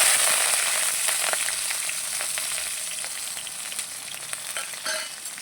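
Green chillies, onion and curry leaves frying in oil with mustard seeds and cumin for poha, a steady bright sizzle with occasional pops and stirring scrapes, close and continuous throughout.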